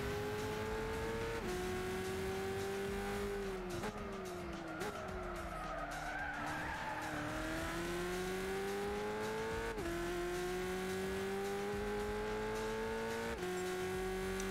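Car engine in the racing game Gran Turismo 6, a steady loud drone rising and dropping in pitch through gear shifts, with tire skidding and squealing mixed in and no speech.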